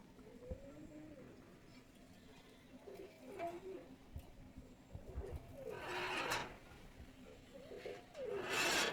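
Pakistani high-flyer pigeons coo softly in a loft in repeated low, rolling calls, with a few louder rustles and shuffles nearby.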